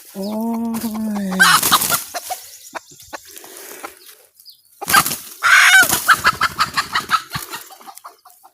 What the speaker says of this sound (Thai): ถือไก่พี่น้องเลย